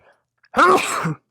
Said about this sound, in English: So to excuse my sneezing there.